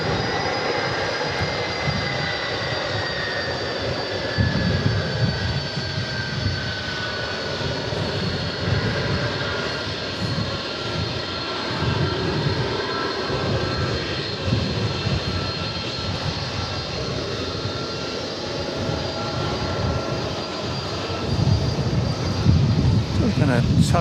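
A jet airliner taxis at DFW Airport with a steady, loud engine drone and rumble throughout, joined by occasional voices.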